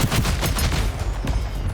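Rapid bursts of gunfire from the video game Scathe, loud and continuous, with dense repeated shots crackling one after another and no talking.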